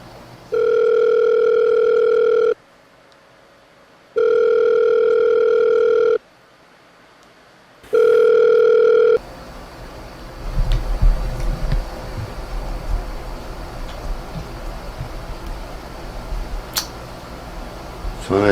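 A telephone ringback tone purrs three times in steady, evenly spaced bursts while a call is placed during a meal, then gives way to a low hissing room background.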